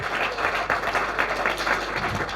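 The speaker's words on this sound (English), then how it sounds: "big round of applause for Tarran." A crowd applauds steadily, a dense wash of many hands clapping at close range.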